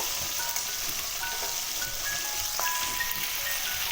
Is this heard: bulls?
no